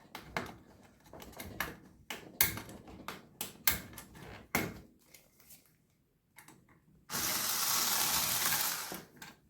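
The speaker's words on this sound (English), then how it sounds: "So we're removing the first screw from the cover to the controller board." Phillips-head screw being backed out of the control board cover on an LG WT1101CW washing machine: a series of sharp, close clicking and ratcheting ticks in bursts, followed by a steady hiss of broadband noise near the end.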